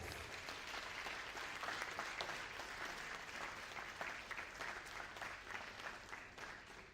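Sustained applause from a lecture audience at an entrepreneurship lecture series honoring a late community member, a dense, steady clapping that swells and then tapers off, with no voices over it.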